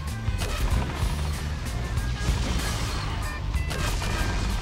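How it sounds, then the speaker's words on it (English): Cannon fire during a naval battle in the video game Darkfall, a dense run of booming shots and crashing impacts over a rumbling, busy background. "Left hand side cannons now."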